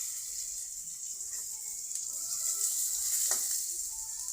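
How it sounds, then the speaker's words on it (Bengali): Onions fry in a pan with cumin seeds, a faint, steady hiss and crackle with a few soft clinks of stirring, no voices. "পেঁয়াজটা ভালো করে লাল লাল করে ভাজবো।"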